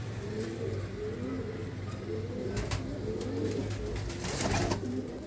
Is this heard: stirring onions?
no